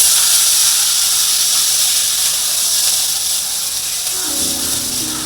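Water hits a hot frying pan of curry leaves, chilli powder and turmeric, setting off a loud, continuous sizzling hiss that stays strong throughout and softens slightly near the end.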